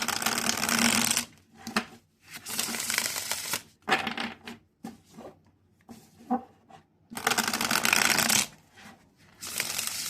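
A tarot card deck being shuffled by hand, with repeated bursts of riffling and sliding cards separated by short pauses, close up and without speech.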